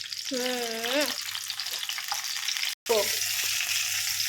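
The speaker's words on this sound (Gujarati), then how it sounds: "તેલ ગરમ થાય એટલે આપણે આ બધા ટામેટાને અંદર ગોઠવી દેવાના છે અને એને સાતળવાના છે" Stuffed tomatoes for a sabzi sauté in hot oil over medium-low heat, giving a steady, close sizzle with a short tonal squeal near the start and a brief gap midway.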